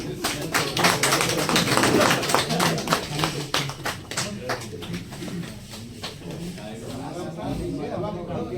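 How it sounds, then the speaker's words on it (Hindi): An audience claps at a Welfare Party event held by the basic education department in Ghazipur, a dense run of hand claps that thins out toward the end, with people talking over it. "बाकी लोग ताली बजाएं।"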